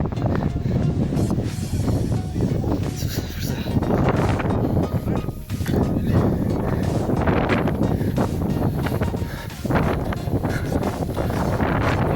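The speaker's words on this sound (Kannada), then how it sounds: "ಗಾಳಿ ಸಿಕ್ಕಾಪಟ್ಟೈತೆ." Strong wind roars continuously across the microphone at a hilltop viewpoint in Sakleshpur, Karnataka, loud and buffeting, with gusts swelling and easing throughout.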